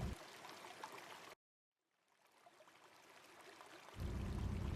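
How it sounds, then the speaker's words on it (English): Water bleeding from a backflow test kit bypass hose, a steady hissing rush that cuts off abruptly, falls silent, then returns as a rising stream that swells louder toward the end, close and alone. "open up your bypass hose, let it bleed, then close."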